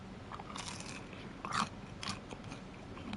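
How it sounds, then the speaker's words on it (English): Crunchy chicken nuggets or dippers being chewed near the microphone, faint crisp bites and crunches scattered over a quiet hum, with one louder crunch in the middle. "I'm in the process of eating some nuggets"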